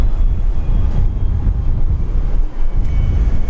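A Skytrans airliner at Brisbane Airport makes a steady, broad engine rumble that stays loud and even throughout, with no voices.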